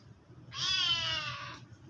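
A cat meows once, a single clear drawn-out call close by, rising and then falling over about a second against a quiet room.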